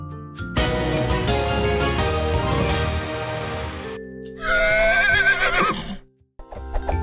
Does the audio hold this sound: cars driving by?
no